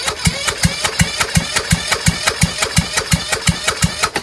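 A Kohler Courage engine cranking over with a slipping Johnson Electric starter motor, heard as a close, loud, regular series of compression thumps, about three per second, with a mechanical rattle throughout.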